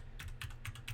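Keys clack on a Corsair Strafe RGB mechanical keyboard in quick, even bursts, four or five crisp strokes close to the microphone over a low steady hum, with no talking.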